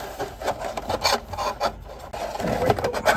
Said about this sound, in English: I'm gonna grab a whole bunch of our wire here and we're gonna thread this through.